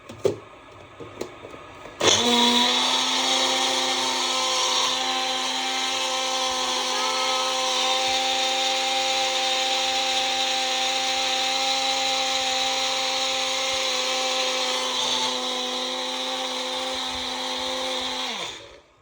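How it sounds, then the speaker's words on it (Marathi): A kitchen mixer grinder whirs loudly and steadily as it grinds coconut, coriander, garlic and green chili, a continuous high motor whine lasting about sixteen seconds after a few clicks, then stopping. "आणि आता मिक्सर चालू करतो"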